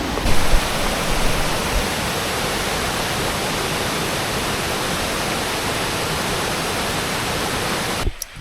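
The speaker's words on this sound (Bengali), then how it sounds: "আমাদের আজকের সেকেন্ড ডেস্টিনেশন জোনা ফলস" Jonha Falls roars in the rainy season, a dense, steady rush of heavy water close by, unbroken for several seconds before cutting off abruptly.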